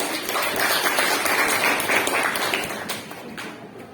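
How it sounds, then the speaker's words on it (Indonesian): Classroom students clap together, a dense burst of applause that holds steady and then tapers off toward the end, with no speech over it. "Beri tepuk tangan dulu."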